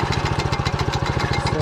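A Motor Sich tractor engine runs steadily at medium revs around 1700 rpm while the tractor works a field, giving a loud, close, evenly pulsing diesel chug with no voices.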